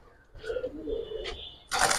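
A pigeon gives a short, soft coo at close range, followed by a brief burst of rustling or flapping noise.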